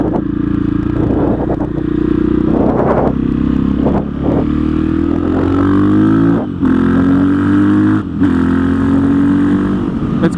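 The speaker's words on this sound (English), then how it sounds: "It's got a slightly deeper exhaust note." A KTM 660 SMC motorcycle engine with an aftermarket exhaust revs repeatedly with a deep, throaty exhaust note, pitch climbing and dropping through several throttle blips, close and loud.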